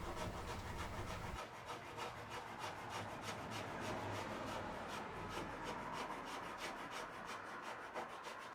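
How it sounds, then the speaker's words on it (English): A hand file rasps steadily over body filler on a panel of an AC 2 Litre car under restoration, with repeated close strokes in an even back-and-forth rhythm and no voices. "Then filed the new filler into shape."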